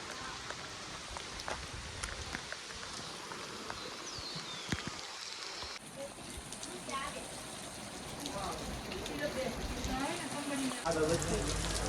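Steady rain patters on surfaces at a home, a soft continuous hiss that thickens in the second half, with faint voices talking beneath it.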